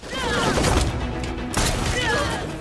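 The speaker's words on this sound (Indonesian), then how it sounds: "suara tembakan itu akhirnya memancing kedua kubu untuk saling baku tembak" Bursts of gunfire crackle back and forth amid loud, chaotic movie-style action noise, with voices mixed in.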